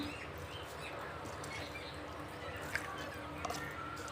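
Faint bird chirps, a few brief calls near the end, over a steady outdoor background hum.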